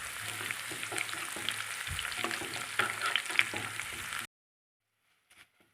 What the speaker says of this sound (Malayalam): ഇതിലേക്ക് ഇനി കറിവേപ്പില ഇട്ട് കൊടുക്കാം.